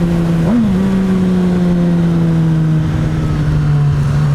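Engine of a 2019 Suzuki GSX-S1000 motorcycle pulling smoothly under acceleration on the road, a loud steady drone that rises in pitch and then holds nearly level, with no talk.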